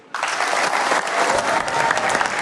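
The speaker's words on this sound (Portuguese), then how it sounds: "Tarcísio Gomes de Freitas, ele é aplaudido, os deputados se levantam, o aplaudem" Deputies in the São Paulo legislative assembly applaud the newly sworn-in governor at his inauguration, a sudden burst of dense, sustained clapping from a large crowd that stays loud throughout.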